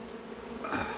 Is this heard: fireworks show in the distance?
no